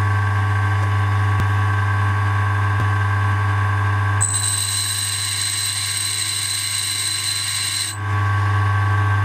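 Meat grinder knives sharpened on a grinding machine, a loud steady motor hum throughout, with a high, even grinding whine joining for a few seconds in the middle.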